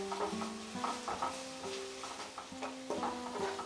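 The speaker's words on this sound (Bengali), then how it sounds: "সসগুলো দিয়ে এটাকে আমি মিশিয়ে মিশিয়ে আরো 1 মিনিট রান্না করে নেব" Sauces stirred into noodles cooking in a pan, a spoon scraping and clinking in short irregular strokes over a soft sizzle, with a steady tonal hum running underneath.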